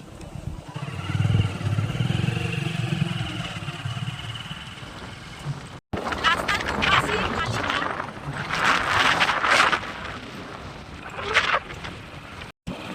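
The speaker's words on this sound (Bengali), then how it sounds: "স্ট্যান্ড থেকে আমরা বাইকে যাচ্ছি" Motorcycle ride along a rural village road, with steady engine drone and wind buffeting the microphone throughout, brief dropouts near six and twelve and a half seconds, and people talking over it.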